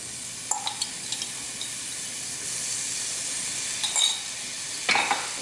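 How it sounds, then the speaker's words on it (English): Minced garlic sautés quietly in a pan, giving a soft, continuous sizzle with a few light utensil taps and stirring clicks scattered through. "just let this saute for like 30 seconds"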